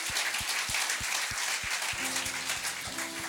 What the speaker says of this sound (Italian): Fai un applauso al Signore.